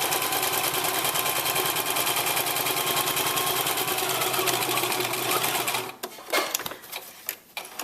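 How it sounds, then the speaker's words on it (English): A sewing machine stitches a fabric treat bag from the narrow bottom edge upward, its rapid steady needle chatter running loud and continuous for about six seconds before stopping, followed by a few soft handling clicks. "start from the narrow edge, the bottom of the bag, and sew forward."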